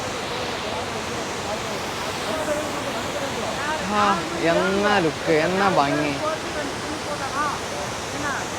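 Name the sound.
Hogenakkal waterfall rushing water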